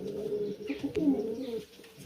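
Racing pigeon cock, son of a Beaver Dam Jansen hen, giving soft low cooing calls in a loft, a few throaty rolling coos close by with faint background noise.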